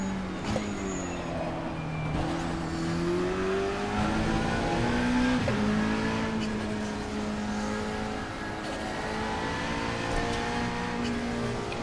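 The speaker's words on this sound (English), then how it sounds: "Driving the RSS Lanzo V8." A V8 engine of the RSS Lanzo race car roars steadily in the Assetto Corsa racing game, holding a loud, close drone with smooth rises and dips in revs and brief gear-shift breaks, with no voices.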